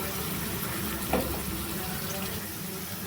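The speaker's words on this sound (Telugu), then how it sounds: "చూడండి ఉల్లిపాయ ముక్కలు మనకు బాగా ఫ్రై అయిపోయాయి కదా" Chopped onion pieces fry in hot oil in a pan with a continuous soft sizzle, and a brief scrape or clink of stirring lands partway through, with no voices over it.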